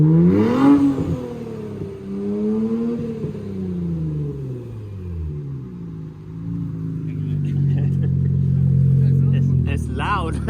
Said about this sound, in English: I'm gonna rev it now. Oh my God, those turbos sound so good.